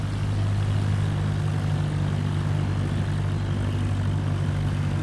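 Propeller aircraft engine at high throttle while rolling on grass in Microsoft Flight Simulator 2024, a loud, steady droning hum with strong low tonal buzz, continuous and unchanging throughout.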